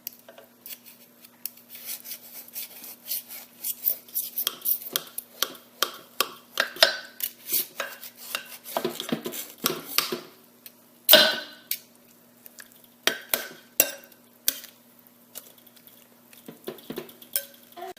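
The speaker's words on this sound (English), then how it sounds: "I'm also turning it flat to kind of get it down in those juices more as I cut it" Slow-cooked pulled pork being cut in its juices, heard as a steady run of close, crisp snips and scraping clicks that come in quick irregular bursts, with no talking.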